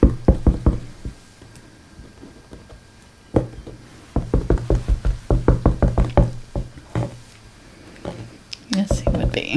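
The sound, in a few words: knocking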